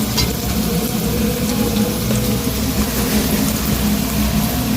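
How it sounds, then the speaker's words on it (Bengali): Potatoes fry in a pan with a dense, unbroken sizzle that stays loud and even throughout. "আলুগুলো ভেজে নেব।"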